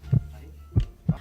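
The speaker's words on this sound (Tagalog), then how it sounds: "ang sagot ng madaling bato ay heartbeat" Heartbeat sound played as a radio guessing-game clue, three deep, soft low thumps spaced unevenly, the first two close together as a lub-dub pair, heard alone without talk.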